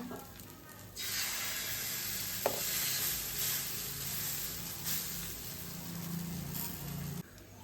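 Millet adai batter sizzles steadily on a hot dosa griddle, a loud broadband hiss that starts abruptly about a second in and holds until near the end, with one brief sharp click midway and no talking.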